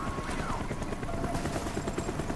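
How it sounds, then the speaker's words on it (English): A swarm of helicopters in the Call of Duty: Black Ops video game, a loud, dense, steady rotor roar with throbbing blade chop filling the whole stretch. "Avoid the helicopter swarm."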